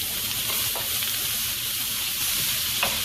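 Squeezed garlic from a jar sizzles steadily in a hot pan while being stirred, a dense, close frying hiss with faint scrapes and no talk.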